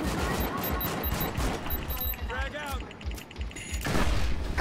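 Video game combat in Killzone Shadow Fall on PS4 brings rapid, repeated gunfire bursts and sharp booms at moderate loudness, with a heavier blast near the end, as players talk over the action.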